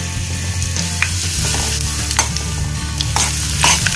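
Mustard seeds, urad dal and curry leaves frying in hot oil in a pan, a loud close sizzle and crackle with sharp pops bursting every half second or so, no voices.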